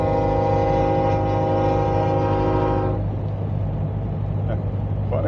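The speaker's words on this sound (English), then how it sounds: "there's a train going by." Train rolling past on a railway line, heard from a 1929 Ford Model A on a drive: a loud sustained horn-like tonal drone with rumbling wheels that cuts off abruptly, leaving a lower, rougher rail and engine rumble.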